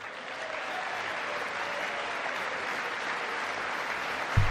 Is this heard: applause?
yes